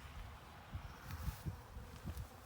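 Honeybees buzz around the entrance of a hive set up with bee nucs outdoors, a soft, continuous hum rising and falling with a few louder passes close by.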